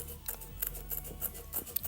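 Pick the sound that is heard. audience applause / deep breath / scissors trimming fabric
scissors trimming fabric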